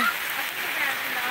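Winter rain falling outdoors near a JCB digger, a steady close hiss of drops on surfaces, constant and even throughout with no voices.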